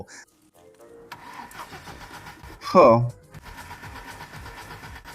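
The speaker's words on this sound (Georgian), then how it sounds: "ძრავი ტრიალებს" A car engine cranks with a quick burst of the starter motor's whirring grind. Quiet mechanical noises come before and after it, and a voice speaks briefly.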